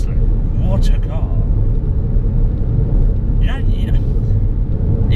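A Ford Fiesta ST Line's turbocharged engine pulls hard from inside the car, a continuous low rumble and road roar that stays loud and steady throughout, with a person talking over it.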